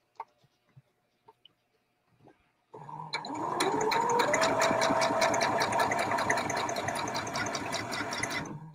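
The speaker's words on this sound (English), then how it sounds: "I'm sewing down this side and I'm adding fibers and cheesecloth as I go" A sewing machine runs steadily and close, stitching lace with fibers and cheesecloth, after a few scattered light clicks and taps during a quiet opening.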